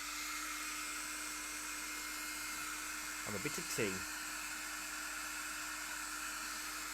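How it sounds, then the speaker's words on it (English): A hair dryer blows with a steady whooshing hiss and hum; a person briefly speaks midway over the constant airflow. "let's get the hairdryer on it."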